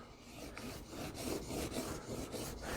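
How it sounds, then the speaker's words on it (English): A knife blade stroked across a sharpening stone while removing the burr, about half a dozen even rasping passes in a steady rhythm, close but quiet, with no talking. "I rub it on here"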